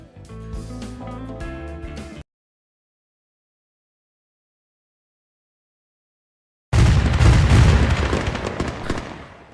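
Fireworks in a Halloween Police video game erupt in a loud, dense burst of crackling explosions after a long stretch of silence that follows a short melodic game jingle.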